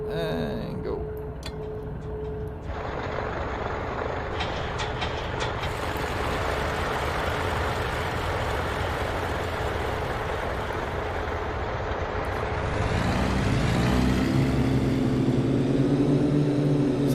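An aircraft's right engine starts up in a flight simulator game at Boston Logan airport, a steady mechanical whine and hum building, then rising in pitch and swelling louder near the end as it spools up.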